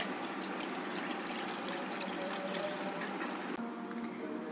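Warm milk pours into a chocolate popsicle mixture, a steady soft gurgling and splashing stream that runs evenly throughout at low volume.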